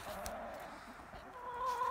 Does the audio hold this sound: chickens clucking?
yes